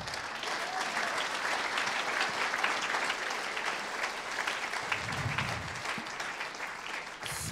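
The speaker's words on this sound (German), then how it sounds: "Frau Falk, Herr Haser, Herr Kramer, die Jury sagt toi, toi, toi. Applaus" Audience applause fills the hall at an award ceremony for journalism research grants: dense, steady clapping from a large crowd that holds at a constant level for several seconds.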